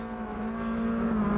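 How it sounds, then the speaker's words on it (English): Caterham race car engines in the Automobilista 2 sim racing game rev at the race start, a steady buzzing drone that swells slightly louder. "Engines are revving."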